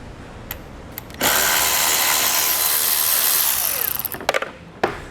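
A power driver with a T40 Torx bit spins out a bolt on a 2014 Jeep Wrangler Unlimited, a loud continuous whir lasting about three seconds, followed by a few clicks and rattles of the bolt.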